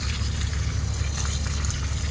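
Water pours steadily onto very dry soil in a potted plant, a dense continuous gushing and splashing that stays loud and close throughout with no talking.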